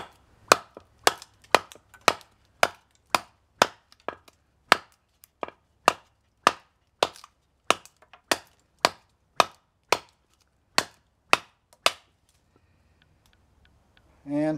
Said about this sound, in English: at least I got some chopping done